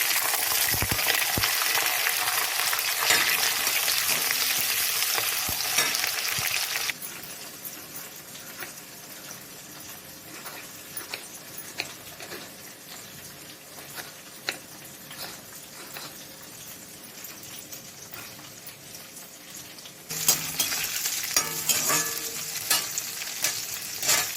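Onions and shallots frying in garlic oil for a Tamil lentil-ball kuzhambu: continuous sizzling with intermittent clinks and stirring scrapes, loud at first, quieter through the middle, then rising again near the end.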